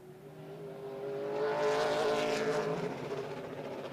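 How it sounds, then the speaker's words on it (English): A PASS super late model race car laps the 3/8-mile Hickory Motor Speedway alone in practice, its engine roar rising in pitch and volume as it passes nearby, then fading and dropping away. "Only car on the racetrack right now."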